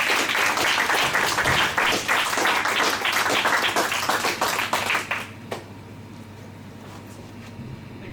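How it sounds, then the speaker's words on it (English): Live audience applause after a comedy act in a cafeteria venue, a dense, sustained crowd clapping that stays loud for about five seconds, then thins out to scattered claps and fades. "Please have another round of applause for the second act of the night."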